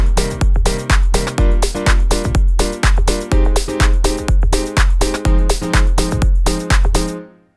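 House piano chord riff, short staccato chords struck on the first beat and then syncopated around it over a steady kick, repeating in a tight loop, loud and clean with no voice.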